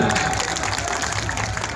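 Applause and crowd noise at the grand final of the Bansari tourism ambassador pageant in Temanggung, a brief, dense burst of clapping mixed with a murmuring crowd and some voices.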